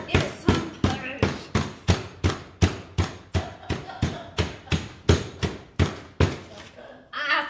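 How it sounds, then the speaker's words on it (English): The smooth side of a meat tenderizer pounds chicken in a kitchen, about twenty sharp, evenly spaced thuds struck in a steady rhythm, close and loud, with a brief voice at the end. "this is the meat tenderizer. And it's the smooth side of the meat tenderizer"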